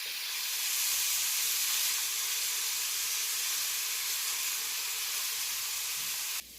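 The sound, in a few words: onions and green onions sautéing in a pan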